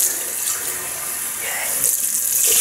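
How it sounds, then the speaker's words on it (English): A tap runs cool water in a bathroom sink during a wet shave, a steady close splashing stream that continues throughout the short stretch. "do some cool water, I think."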